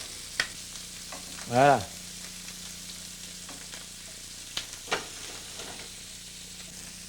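Chicken pieces brown skin side down in a pan, giving a steady low sizzle and frying crackle with a few clatters of turning, while someone speaks briefly over it.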